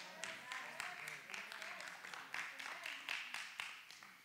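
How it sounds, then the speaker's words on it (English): A handful of people clap in a church congregation, a sparse, uneven patter of a few hands lasting several seconds at moderate distance with no voices over it. "There's like four people clapping"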